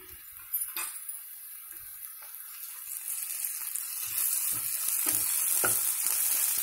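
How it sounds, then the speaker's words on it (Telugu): Ginger garlic paste sizzles and fries with browned onions in a pan for an Indian capsicum masala kurma, a steady hiss that grows louder with a few clinks and stirring scrapes. "ఇప్పుడు మనం 1 స్పూన్ అల్లం వెల్లుల్లి పేస్ట్ వేసుకుందాం"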